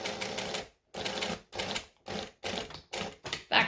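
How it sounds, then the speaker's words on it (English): A sewing machine runs a back stitch in short, rapid bursts of mechanical clatter, stopping and starting about seven times, close up. "Back stitch, and then I'm going to pull it out."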